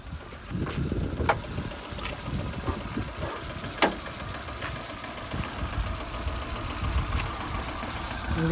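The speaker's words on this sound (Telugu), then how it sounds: "ఇంజన్ చూడండి చాలా సైలెంట్గా ఉంది." A petrol Hyundai i10 idles with a low, steady engine hum that is quiet and close, with a few faint clicks and no talking over it.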